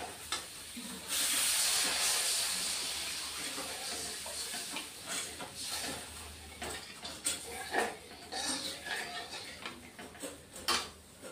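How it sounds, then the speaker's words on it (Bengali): Water hits a hot pan of oil in which pabda fish curry is being made, bursting into a loud, sustained hiss of steam that gradually fades into softer sizzling and stirring clatter. "এখন জল দিয়ে দিচ্ছি।"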